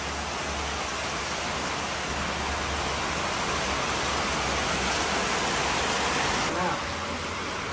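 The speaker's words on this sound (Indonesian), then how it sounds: "Ini yang kita takutkan kalau hujan." Heavy rain pours down in a steady, dense roar that stays loud and constant throughout, with no breaks.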